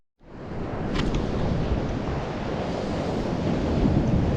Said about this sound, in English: And, kind of dealing with some waves.